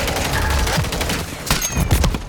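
Rapid gunfire in the video game Modern Warfare 3, a dense burst of sharp shots crackling over a busy battle din, with a louder cluster of reports near the end.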